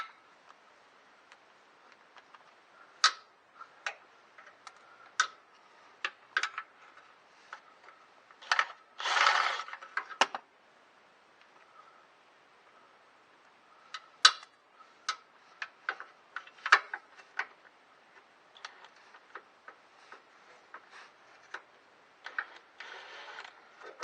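A ratchet socket wrench clicks in short, irregular bursts of quiet ticking, separated by pauses, with one denser rasping run partway through and more scattered clicks after.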